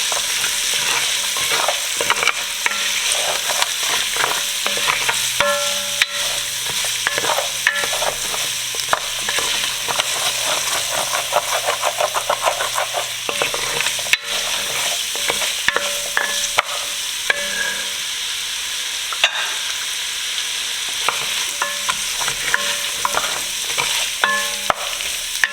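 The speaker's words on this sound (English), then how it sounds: "carrots. Stir that in for a little bit." Carrots are stirred in a frying pot for a Mexican meatball soup, a spoon scraping and clattering steadily against the pot over a constant close sizzle that runs the whole time, without talk.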